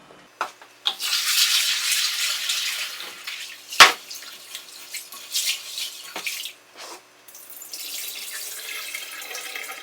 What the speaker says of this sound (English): All you're gonna do is just rinse the beans with water.